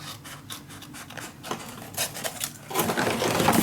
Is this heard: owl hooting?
no